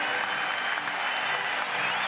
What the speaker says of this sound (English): The Celtic players rightly getting the applause they deserve